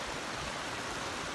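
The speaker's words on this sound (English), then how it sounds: "those cool little waterfalls coming off that beaver pond" Small waterfalls spill off a beaver pond in a steady, even rush of water, close and continuous, with no voices.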